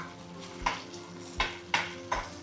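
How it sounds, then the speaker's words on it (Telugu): Green chillies fry in oil in a pan for a Telugu chutney, a soft low sizzle under four sharp metallic clanks of a spoon stirring against the pan, spaced about half a second apart. "ఆయిల్ వేసుకొని అందులో మిరపకాయలు వేసుకొని అది వేగేదాకా"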